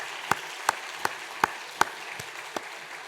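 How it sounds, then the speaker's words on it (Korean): Congregation clapping during a Sunday church service, heard as a handful of distinct, separated claps spaced roughly evenly, sharp but moderately loud over a quiet room. "우리 박수로 한번 환영하시겠습니다"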